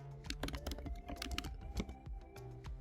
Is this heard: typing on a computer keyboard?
yes